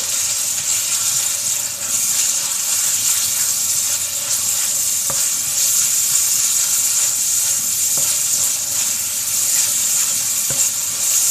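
Fish and garlic sizzle and fry in a pan while being stirred, a steady close hiss broken by a few sharp utensil scrapes and taps against the pan.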